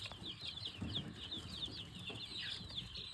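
Many baby chicks, Barred Rock and Buff Orpington, peep continuously in a barn, a dense chorus of high chirps running throughout with low background rumble.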